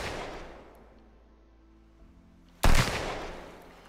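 Gunfire from a weapon in the survival video game Sunken Land: one sudden, loud gunshot bursts out near the end and rings off slowly, with a fainter decaying shot sound at the start.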